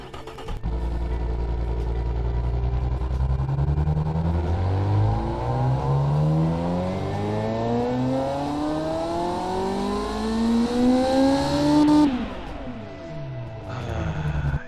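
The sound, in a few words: V12 car engine revving in video game Automation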